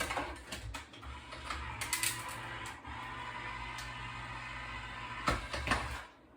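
Manual die-cutting machine being cranked to roll an embossing folder and a cutting die through, giving faint mechanical clicks, ratcheting and a low grinding rumble at close range.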